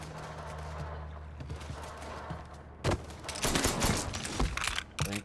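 Rapid bursts of gunfire in the video game Mafia III, loudest in the second half, with scattered shots and clattering fire over a low ambient hum.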